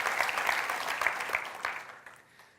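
A church congregation applauds its volunteers, dense clapping that holds steady at first and then fades away toward the end.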